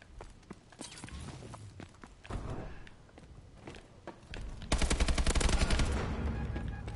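Rapid gunfire in a first-person shooter video game, a mix of sharp shots and clattering footsteps that gives way to a dense, loud stream of automatic fire near the end.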